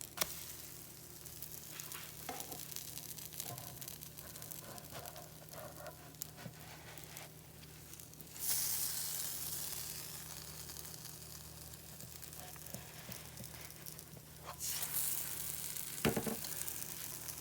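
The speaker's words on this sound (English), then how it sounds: "And now we go in to flip the pancakes." Buttermilk pancakes sizzle steadily in a hot pan, a continuous near frying hiss with soft scrapes and taps as they are turned, swelling louder briefly after each flip.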